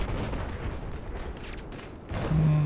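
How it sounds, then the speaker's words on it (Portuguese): Gunfire in the video game Battlefield on the Caspian Border map, a dense, continuous wash of distant shots and rumbling blasts throughout, with a louder booming burst near the end. "Só sei que eu tô escutando tiros."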